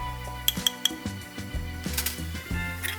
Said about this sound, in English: you can use a spoon to mix the next ingredients, and it is chili powder